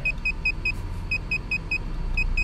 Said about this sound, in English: Still beeping. A few solid beeps.